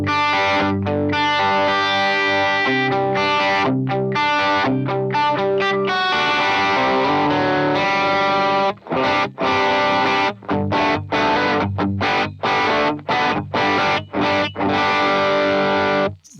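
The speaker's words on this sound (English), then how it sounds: "I'm going to try and turn some overdrive on them and a light drive, the Morning Glory V4" Electric guitar through a light Morning Glory V4 overdrive and noise gate plays sustained chords and riffs, later turning to sharp, gated stops between choppy strums.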